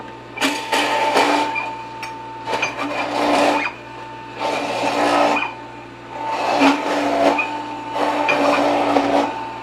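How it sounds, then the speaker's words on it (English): A kitchen food scrap grinder churns through soft vegetable peelings such as carrots, its motor whirring steadily with repeated surging bursts of grinding, close and fairly loud with no talking. "I won't press this down because I don't want the grinder to get clogged"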